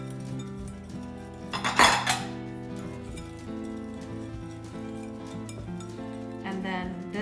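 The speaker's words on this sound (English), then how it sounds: "I'm just gonna crack in an egg and give it a bit of a mix" An egg is mixed for cookie dough in a bowl, with a utensil clinking and scraping against it in quick, irregular taps and one louder clatter near the start, all close and fairly quiet.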